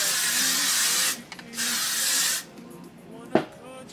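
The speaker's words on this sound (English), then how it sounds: "I just do like literally the most random quick spray" Hairspray sprayed onto freshly set, voluminous blown-out hair: two sustained hissing bursts, the first about a second long and the second a bit shorter, close to the mic, then a quiet pause and a brief knock.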